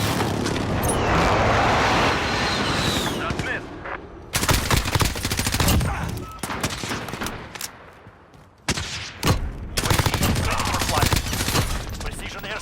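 Custom-built gun fired in Modern Warfare gameplay: loud rapid bursts of automatic gunfire in several sustained strings, separated by short pauses, with booming in-game impacts and effects.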